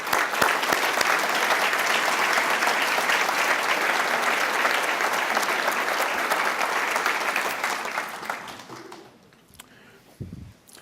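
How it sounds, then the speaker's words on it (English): A room full of people gives sustained applause to welcome new faculty at a college gathering, loud and even for about eight seconds before thinning out to a few scattered claps and near quiet. "if you could rise and we could just welcome you with a round of applause"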